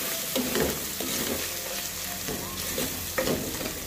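Red chili powder and turmeric fry in oil in a pan for palak gosht, a close, even sizzle with a few soft stirring scrapes and no voices.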